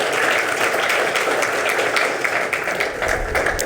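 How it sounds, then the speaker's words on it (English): Dense, steady applause from an audience at an entrepreneurs' conclave in a hotel hall, a continuous wash of many hands clapping at moderate loudness with no one speaking over it. "They deserve a round of applause"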